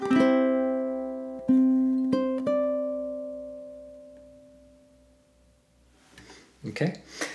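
Ukulele picking the final measure of Scott Joplin's ragtime piece The Entertainer: a few plucked notes and a brief run that ring out and fade over several seconds, followed by faint handling noise near the end.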